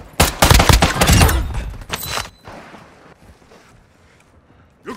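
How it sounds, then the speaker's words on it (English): Loud, close gunfire rips out in a dense burst of rapid shots during a Call of Duty Warzone DMZ firefight, then cuts off. Quieter rumble and scattered noise follow, with no voices. "You are taking effective fire."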